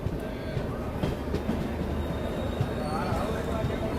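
A passenger train brakes while running through Mathura Junction, with rumbling wheels, rail clatter and faint metallic squeal heard from inside a carriage, a steady loud roll throughout.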